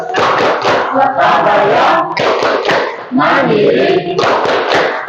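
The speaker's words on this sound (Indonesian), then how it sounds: "Kita akan tepuk P5." Standing students perform a rhythmic P5 clapping chant, loud bursts of group hand claps alternating with chanted words in steady repeating phrases, voices and claps blended together close by.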